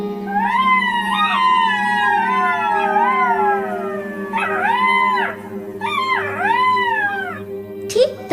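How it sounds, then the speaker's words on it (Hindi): Foxes howl at a deserted cremation ground at night: long wavering, rising and falling cries that overlap, then two shorter arched calls near the end, loud and close over a steady low drone. No separate cricket chirps stand out. "सिर्फ झिंगुर की आवाज और कुछ लोमड़ी इधर उधर चिल्ला रही है।"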